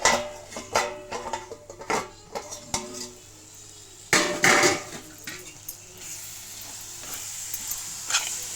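A metal lid clatters and a spoon scrapes against a pot of mushroom kootu, sharp uneven knocks and clinks over a faint sizzle, with one louder clank midway.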